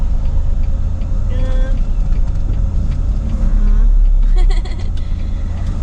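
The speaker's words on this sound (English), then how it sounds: "Come on, little smart car. You can do it, buddy." A Smart car's engine hums steadily on a gravel road, with a low rumble and crunching under the tires, while people talk over it throughout.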